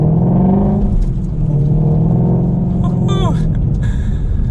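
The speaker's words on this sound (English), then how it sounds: "just giving it a little bit of gas here in a second. Has a really nice sound to it." Revving V8 of a 2020 Shelby GT350 in sport mode at parking-lot speed, a steady loud engine rumble with a brief rising rev near the end, with someone talking over it.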